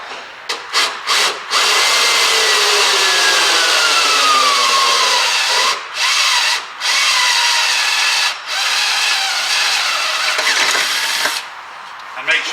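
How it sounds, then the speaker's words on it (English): A cordless drill whirs steadily through the metal body of a 1979 Citroën CX near the wheel for several seconds, its pitch sliding slightly, with short pauses between bursts of drilling. "I'm now drilling where the wheel is"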